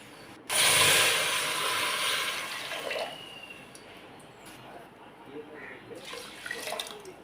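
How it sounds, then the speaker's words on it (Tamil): Water is poured into a pressure cooker for varagu rice pongal: a sudden close splash and rush that tapers over a few seconds into a quieter trickle, followed by faint clinks and small kitchen sounds. "அதிலே 5 கப் தண்ணி ஊற்றி குக்கரில் போட போகிறோம்"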